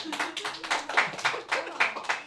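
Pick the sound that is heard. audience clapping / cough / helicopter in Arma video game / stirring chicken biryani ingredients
audience clapping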